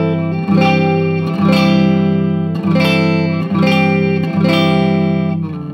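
Heavily distorted electric guitar notes on the low strings, tuned down a whole step, strike four times in a slow rhythm, each ringing loud and thick with effects before the next.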